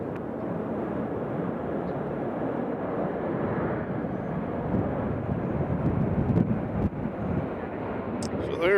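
A United airliner arriving from Chicago O'Hare at Nashville International Airport gives a steady, broad roar that swells slightly toward the end, with wind buffeting the microphone throughout.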